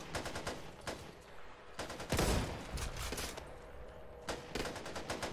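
Repeated gunfire in the co-op zombie shooter Back 4 Blood, with bursts of automatic shots and single loud blasts recurring every second or so across the whole stretch, close and punchy, with no talking.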